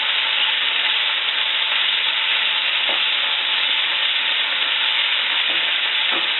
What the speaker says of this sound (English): my potatoes are browning up really nice